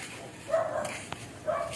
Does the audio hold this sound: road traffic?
no